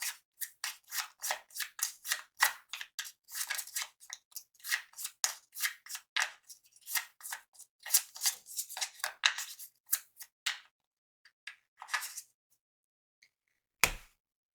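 Rapid, crisp riffling and snapping of Forbidden Island board game cards being shuffled, repeating in bursts for several seconds, close by, ending with a sharp tap.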